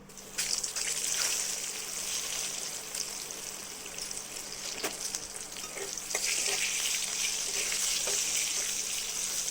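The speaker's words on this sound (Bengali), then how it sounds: "এবার বেগুনগুলো ভেজে নেব" Eggplant pieces fry in oil in a wok, giving a steady, dense sizzle with crackles and pops that continue across the whole stretch. Occasional stirring scrapes sound over it, and no one speaks.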